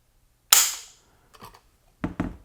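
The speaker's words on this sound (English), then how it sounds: "now let's get out the Lyman trigger pull weight gauge, clear any averages out, and now it's time to test the trigger" A 6.5 Creedmoor short-barreled rifle's trigger breaks with one sharp, crisp mechanical snap as a Lyman pull gauge draws it, followed by fainter clicks of the action being handled.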